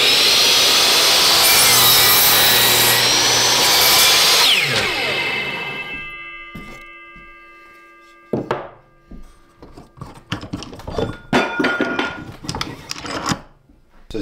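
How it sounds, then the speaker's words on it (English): A miter saw cuts through 2x4 lumber for a cabin railing, giving a loud, sustained broadband whine for about five seconds before spinning down, followed by scattered knocks and handling clatter of the wood. "with the miter saw"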